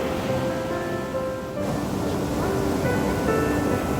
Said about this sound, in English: the waves crashed into her shell, welcoming her home